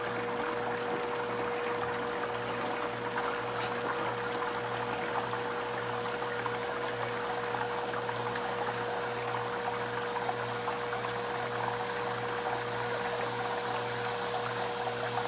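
Pottery glaze slurry pushed through a sieve screen, a steady wet swishing and trickling wash with a constant low hum underneath, continuous and close.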